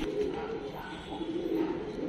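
A flock of black bhaura pigeons coos continuously up close, the soft rolling calls layered from several birds with no pauses, in a loft of kasni and madrasi pigeons.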